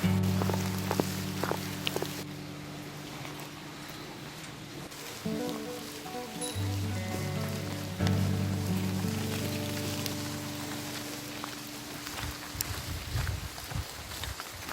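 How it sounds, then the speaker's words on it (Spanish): Steady rain patters on the ground during a rainy walking stage of the Camino Portugués between Caldas de Reis and Padrón, a broad hiss under low tonal hums, with a brief rumble and spatters near the end. "¿Qué tal está siendo la sensación del camino bajo la lluvia?"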